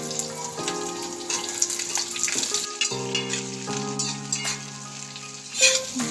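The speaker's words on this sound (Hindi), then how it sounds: "और प्याज को भी देखिए मैं हल्की सी फ्राई करूंगी, ज़्यादा नहीं इसे फ्राई करनी है, बस हल्की हल्की फ्राई करनी है।" Large-cut onion pieces fry on a high flame, a steady close sizzle with crackles and stirring scrapes, while faint music plays throughout.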